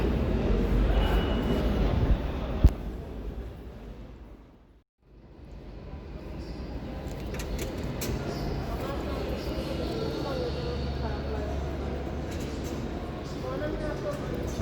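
Subway train rumbling through the Jackson Heights–Roosevelt Avenue station in New York, a steady rolling roar with a brief near-silent gap midway, then the noise swelling again, with speech over it at times.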